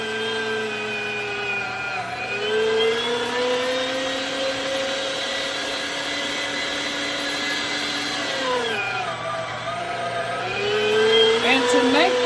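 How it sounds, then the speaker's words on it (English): An electric meat grinder grinds chuck roast for burgers with a steady whining motor hum whose pitch dips and rises as the meat loads it, with a voice speaking under the noise. "What I'm grinding now is the chuck roast."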